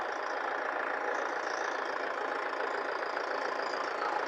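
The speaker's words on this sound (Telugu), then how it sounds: "ఇంజిన్ చూసుకోవచ్చు ఎలాంటి వైబ్రేషన్ లేదండి చాలా స్మూత్గా ఉంది" A Tata Safari Storme diesel SUV engine idles steadily at close range, a smooth, even drone with no talking over it.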